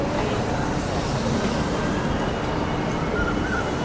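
Humsafar weekly express on its first run from Srikakulam Road to Tirupati, standing at busy Duvvada station: a steady, loud broadband rumble of train and platform noise throughout, with a crowd murmuring beneath.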